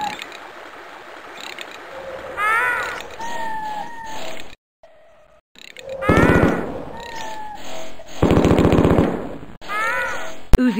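Uzi 9mm bursts from a mid-1990s DOS first-person shooter, Mortal Coil, crackle in short rapid volleys between electronic chirps and tones, with a brief silent gap midway and loud repeated bursts near the end.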